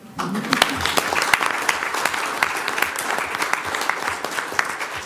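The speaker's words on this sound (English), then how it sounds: "So let's clap for each other." Board meeting attendees clap for one another in a sustained round of applause, dense and steady for several seconds with talk mixed in underneath.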